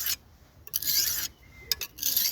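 A blade being sharpened with 180 grit abrasive gives repeated bright rasping strokes, about three separate passes with short pauses between them, close and fairly loud.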